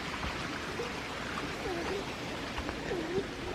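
Creek water flowing steadily on a mountain outing, a soft continuous rushing wash heard at low level throughout, with faint distant voices.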